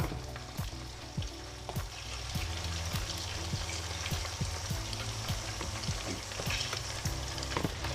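Fruit custard bubbles and cooks in a pan while a spoon stirs it, giving a steady soft simmer broken by regular light scrapes and taps, close by with no talking.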